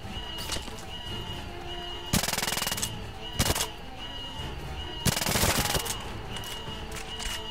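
Gunfire in the video game 007 Legends: three loud, sharp bursts of shots at irregular intervals, standing out over a busy backdrop of game noise and hum.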